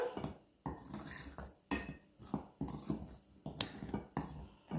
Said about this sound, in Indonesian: Aduk rata sampai betul-betul semua bahan tercampur.